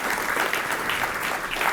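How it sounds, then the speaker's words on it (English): Delegates at a political party conference in Dundee applaud, a continuous full-room clapping that stays even and loud throughout. "round of applause for Mike"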